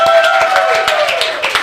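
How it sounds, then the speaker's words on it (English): A live studio audience claps for a round of applause, sharp, evenly spaced claps sounding close and loud over a sustained tonal hum throughout. "let's give Ken a round of applause"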